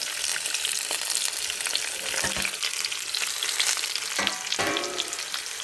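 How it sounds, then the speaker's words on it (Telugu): Parboiled fried potatoes hit a pan of hot oil with toasted cumin, sizzling steadily and loudly with a few clattering stirs near the end, no one talking. "ఇప్పుడు దీంట్లో మనం ఫ్రై చేసి పెట్టుకున్న ఈ పొటాటోని దీంట్లో వేసేద్దాం"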